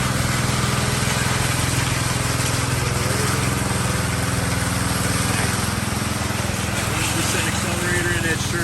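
A petrol power trowel fitted with float blades runs steadily while smoothing a fresh concrete slab during a slab replacement, its engine drone loud, continuous and close throughout.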